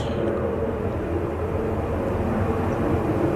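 An EasyJet aircraft arriving on runway 05R at Manchester Airport makes a steady, low jet rumble, continuous and moderately loud with no break.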